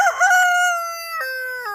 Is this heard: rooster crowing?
yes